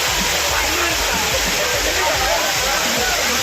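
Waterfalls at Courtallam crashing down where crowds of tourists bathe, a loud steady roar of falling water filling the whole stretch, with faint voices beneath.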